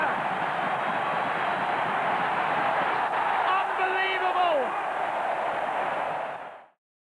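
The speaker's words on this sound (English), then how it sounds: "Listen to the crowd." A large stadium crowd roaring during a fast 800m race, a broad sustained roar at steady loudness with a voice faintly audible over it, then an abrupt fade to silence.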